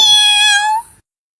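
A single loud, close domestic cat meow, a drawn-out tonal cry lasting about a second before it cuts to silence.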